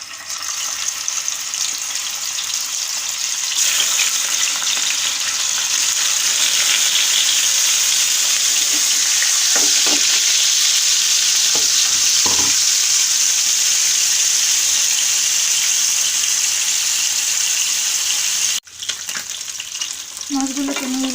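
Hilsa fish pieces marinated with salt and turmeric hit hot oil, and a loud, continuous sizzle swells after a few seconds, broken by occasional soft knocks from the utensil.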